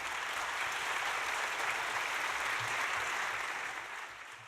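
Sustained applause from an audience at an Armenian commemorative event, a dense, even wash of clapping that holds steady before tapering off at the end.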